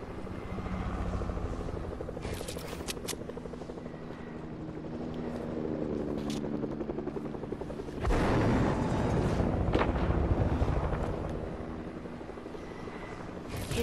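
Helicopter in the video game Fortnite flies steadily with a continuous rotor rumble and whine, then swells louder and nearer around the middle before holding a thick, close drone.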